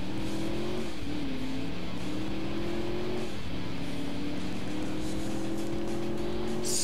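Police car driving in Alarm für Cobra 11 Highway Nights, fitted with mirror-mounted searchlights and its siren switched off, with a steady engine drone that rises and dips in pitch as it accelerates, continuous and close with no talk.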